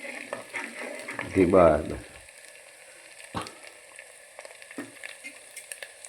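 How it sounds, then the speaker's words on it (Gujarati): A curry of lilva beans fries in a pan while it is stirred, with one strong sizzling burst early on, then quieter frying and a few sharp clacks of the spoon. A short spoken word is heard. "હલાવો થોડીક વાર."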